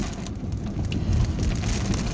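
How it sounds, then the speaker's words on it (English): Steady rain hisses and patters outdoors, a constant wash of noise with a low rumble underneath. "It's a lot of rain out here, so you might hear some of the noise"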